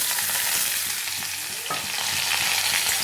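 Mixed vegetables for Bengali shukto fry in hot oil, a dense continuous hiss and crackle up close, with a brief dip and a scraping stir midway, and no voices.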